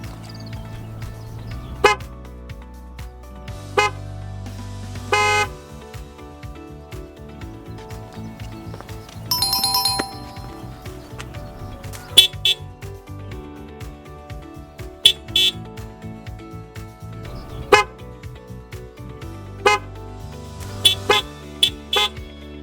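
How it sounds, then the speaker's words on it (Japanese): A newly replaced car horn honking, with repeated loud tonal blasts, some long and some short taps, separated by quiet gaps over about twenty seconds, close and unaccompanied by talk. "それではホーン交換後の音を聞いてもらいます。"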